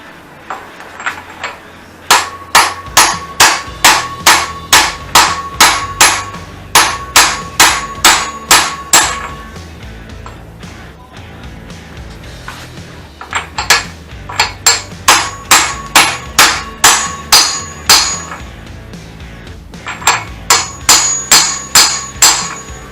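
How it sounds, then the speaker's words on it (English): Repeated sharp metallic strikes of a 35mm socket hammering in a part on a Volkswagen Passat B5.5 TDI engine ring out in quick bursts, pausing between sets, loud and close with a bright clanging tone. "I just use that 35mm socket to hammer it in"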